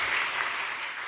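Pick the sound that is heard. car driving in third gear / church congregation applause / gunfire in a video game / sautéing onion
church congregation applause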